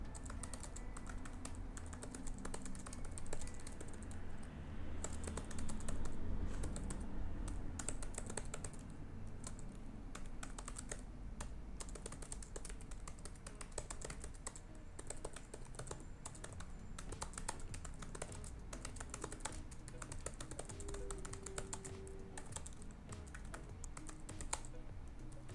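Continuous typing on a computer keyboard, a dense run of rapid clicks and taps close up, steady and uninterrupted with no talking.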